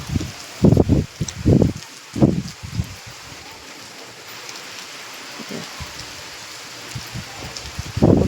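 Rain falls as a steady soft hiss, with a few low gusty thumps of wind and handling at the start and end, close and moderately loud, with no voices.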